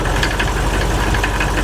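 Land Rover Discovery engine running rough, a loud, steady, close mechanical drone with a faint irregular knocking pulse running through it and no voices.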